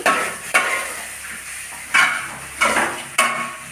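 Taro leaf stir-fry (thoran) being stirred in a hot pan: a soft sizzle under several distinct scraping strokes of a spoon against the pan, spaced irregularly and close.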